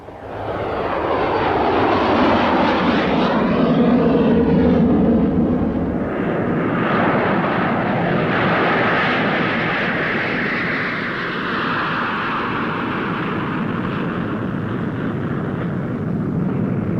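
Dornier Do X flying boat of 1929 droning overhead above Lake Constance, a loud sustained roar of its engines that swells early then settles into a steadier, slightly fading rumble.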